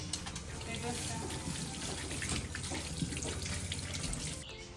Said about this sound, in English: Washing hands is very important, so make sure you do that.